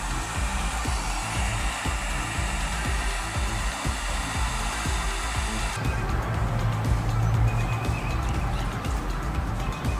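A heat gun blows steadily on a cracked plastic car bumper being reshaped, a constant close airflow roar with faint handling clatter and no talk.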